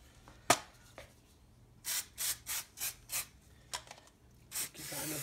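Lint-free rag, dampened with brake cleaner, rubbed over the machined face of a front diff case during an Ashcroft ATB fit: a run of short, regular rasping wipes, close and fairly quiet, with a few sharp knocks before them.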